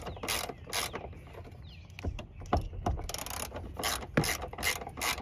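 Ratchet tightening seat bolts in a 1999–2006 Chevy or GMC truck, quick close clicking bursts of the pawl in several separate runs, with short pauses and a few metallic knocks between them, no talking.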